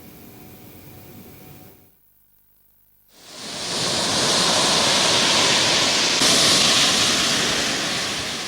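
Big surf driven by a strong west wind pounds the Buleleng coast in Bali as a continuous broadband roar. It drops out briefly, then returns louder and steadier.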